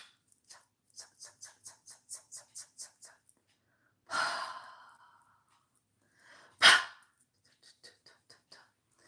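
Deep breaths during a guided meditation: a long, audible exhale, then a shorter sharp breath a couple of seconds later, set between soft, rhythmic faint taps in an otherwise quiet room.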